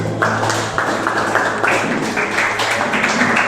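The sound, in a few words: applause for the Lord in church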